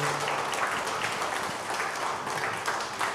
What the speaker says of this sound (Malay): Berilah tepukan untuk mereka.